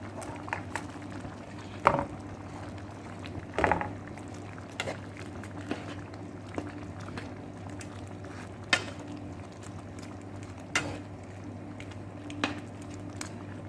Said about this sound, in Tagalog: kumukulo-kulo na siya guys